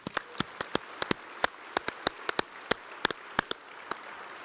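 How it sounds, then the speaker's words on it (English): A conference general session audience in Las Vegas claps, heard as sparse, scattered individual claps at a fair distance, quiet and spread out rather than a full ovation. "Let's give them all a round of applause."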